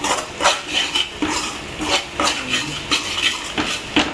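Chicken pickle being mixed with chilli powder and salt: a spoon scrapes and knocks against the bowl in a steady rhythm of about two strokes per second, close and fairly loud, with no talk.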